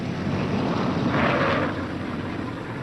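A B-17 bomber making a rough landing, its engines a steady, close, broad roar that swells slightly midway and holds to the end, with some wind rush.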